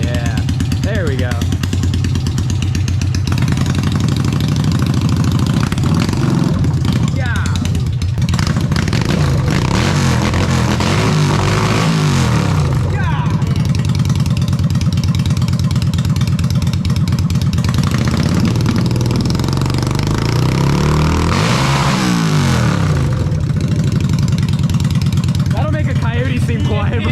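A VMP supercharged Ford Mustang S197 engine idles with a steady low rumble and rises into several revs, loud and close, while people talk over it throughout.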